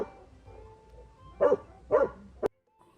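A dog barks three times in a loose rhythm, close and sharp, followed by a brief moment of near silence.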